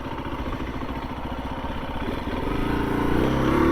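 A 2021 KTM 350 EXC-F dirt bike engine chugs along on flat ground with the throttle off, a steady, close, low pulsing thump that grows slightly louder toward the end, with no voices.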